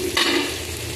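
Onion and garlic sauté in a hot pan for a bean sprout stir-fry, a bright sizzle bursting in briefly as they hit the oil, then settling into a steady frying hiss with no talk.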